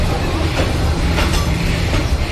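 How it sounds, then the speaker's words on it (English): A long train rumbles steadily past nearby, a continuous loud roar of wheels and rail noise with faint rhythmic clatter. "This is a long train."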